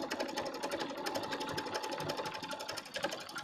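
A sewing machine runs steadily, stitching back and forth over a torn patch of fabric with colour-matched thread. Its rapid, even clatter is close and continuous, with no pauses or talk.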